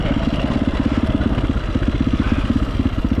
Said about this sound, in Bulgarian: Само с такъв мотор мога да го преживеете това нещо.